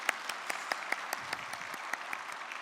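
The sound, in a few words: church congregation applause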